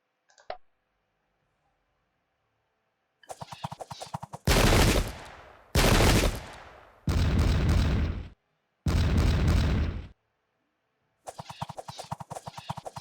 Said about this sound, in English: That cannon can fire because they have line of sight thanks to being on elevation.